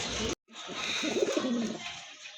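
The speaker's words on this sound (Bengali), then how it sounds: "মাশাআল্লাহ অনেক সুন্দর চমৎকার এক জোড়া কবুতর" A pair of fancy pigeons offered for sale in Bangladesh coo in low, rolling bursts close by, after a brief cut near the start, with soft background noise.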